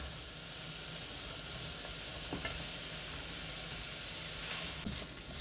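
Carrots and onions sizzle steadily in a frying pan, a continuous close hiss of frying with faint stirring scrapes and no talk.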